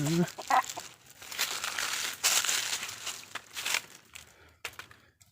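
Chickens clucking nearby amid crinkling and rustling, with a voice talking over parts of it.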